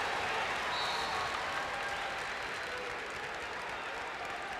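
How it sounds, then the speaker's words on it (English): Crowd noise from spectators at a 1996 Ohio high school state wrestling tournament final, a steady, dense wash of cheering and applause that stays fairly constant throughout without clear breaks. "the cheering you hear in the background isn't necessarily connected with the match you've got on your screen"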